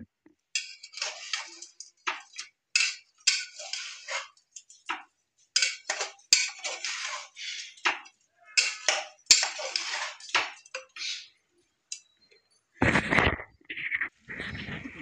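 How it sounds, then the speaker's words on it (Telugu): Chicken curry ingredients stirred together in a pot, a spoon clinking and scraping against the metal in a repeated, uneven rhythm, close and fairly soft, with a few sharper knocks near the end. "ఇవన్నీ కలిపి మొత్తం బాగా కలుపుకోవాలి."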